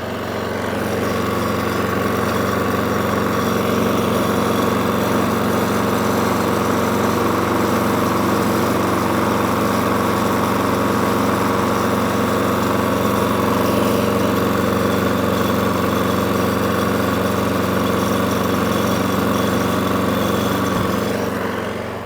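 A petrol lawnmower engine runs steadily after an ignition coil replacement, a loud, constant droning hum close by that holds an even pitch throughout with no speech.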